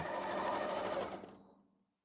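A sewing machine stitches the last seam of a jelly roll quilt. The needle chatters rapidly and evenly up close for about a second, then slows and winds down to silence.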